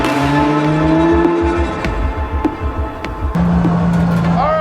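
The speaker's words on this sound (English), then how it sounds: "Alright, first lap with the new setup on the car." A Toyota Supra drift car on sticky tyres laps a track, its loud engine revving and shifting with tyre squeal and skidding as it slides, and a voice speaks now and then over the engine.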